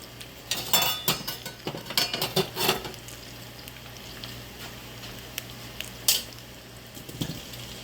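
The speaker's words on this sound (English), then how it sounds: "first I'll just put the potatoes in" Garden potatoes dropped into a cooking pot, making a quick run of clattering knocks and taps against the metal, then a pause and one more clatter, over a low steady kitchen hum.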